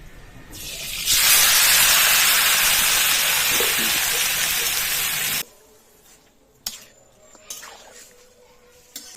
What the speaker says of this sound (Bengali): কড়াইটা বসিয়ে দিচ্ছি, কড়াইতে মাংস দিয়ে দিব।